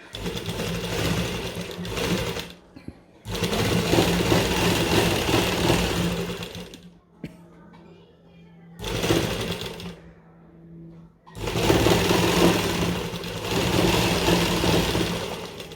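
An electric sewing machine stitches a kurti neckline in four bursts of fast, even whirring and clatter separated by short pauses, loud and close with no talk.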